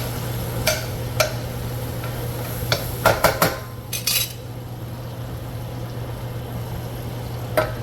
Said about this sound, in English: So we're gonna saute those veggies